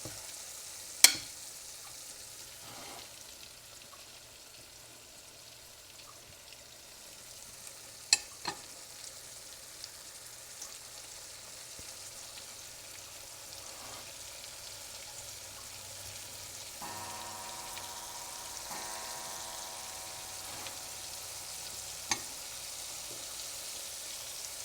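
Steak pan-frying for smothered steak, a faint, steady sizzle throughout with a few sharp clinks of utensils and a brief hum in the latter part, no speech.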